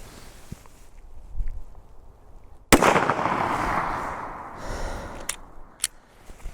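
A single sharp, loud gunshot from a pistol firing Speer Gold Dot police ammunition, followed by a long rolling echo and two fainter sharp reports near the end, with quiet background before.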